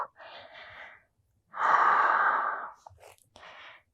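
Slow, conscious breaths during a vinyasa yoga flow: a soft exhale, a long, louder sigh-like breath in the middle, then short breathy sounds, close and with no talking.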